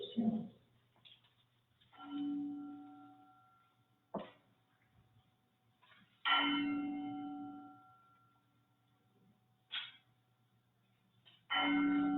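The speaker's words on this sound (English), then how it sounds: "May the ringing of the bell prepare our hearts and minds for worship." A church bell strikes several times at irregular intervals before a worship service, each ring sustaining and fading, with a low steady hum between strikes.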